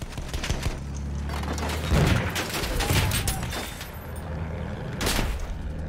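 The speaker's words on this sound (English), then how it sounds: "Da! Feindlich mit Maschinengewehr!" Enemy machine gun fire in a war video game crackles as a steady distant fusillade with a few heavier booms mixed in, under a constant engine drone.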